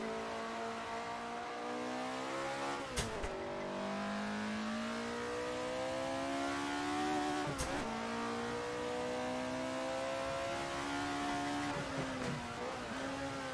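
A 1967 race car in the Assetto Corsa racing game revs hard and steadily, its engine note climbing and dropping at three quick gear shifts while it holds flat out, loud and close with no talking.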